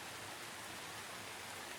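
Soft, steady hiss of rain falling in a cartoon, faint and even throughout with no distinct drops or other sounds.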